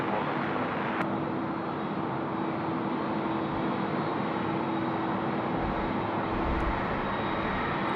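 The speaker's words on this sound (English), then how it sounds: "runway 16 right, cleared for takeoff" A jet airliner takes off from runway 16 right at Sydney Airport, its steady broadband engine roar filling the air continuously at moderate distance, with no voices.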